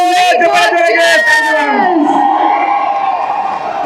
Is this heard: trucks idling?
no